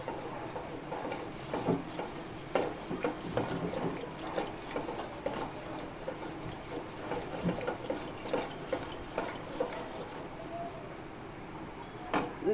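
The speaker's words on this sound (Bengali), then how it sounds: "ঘুরিয়ে ঘুরিয়ে এটাকে আমি নাড়তেই থাকবো প্রায় পনেরো মিনিট ধরে নাড়বো" Sour yogurt and sugar stirred for lassi, a steady run of soft scraping and tapping strokes of a spoon or whisk against the bowl, close and moderate, with no talk.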